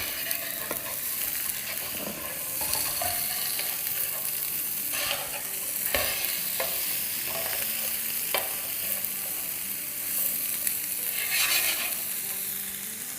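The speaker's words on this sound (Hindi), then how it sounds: "प्याज और बेल पेपर का। उसको हाई फ्लेम पे फ्राई करेंगे।" Onion and bell pepper with a little salt sauté on high flame for a potato masala, a steady bright sizzle with intermittent spatula scrapes and stirring clatter close by, without speech.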